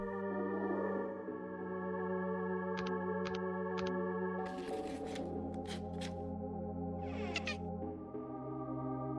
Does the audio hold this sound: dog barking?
no